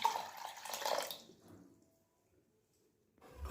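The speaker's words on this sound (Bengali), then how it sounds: "আর এখানে নিয়ে নিচ্ছি 3 কাপ জল।" Water from a cup splashes into a saucepan in a short nearby pour that tapers off into silence, followed by a faint clatter at the end.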